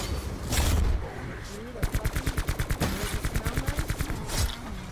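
Rapid automatic gunfire from Black Ops 4 Zombies, a burst of evenly spaced shots running through the middle of the clip and loud against a busy background of game noise.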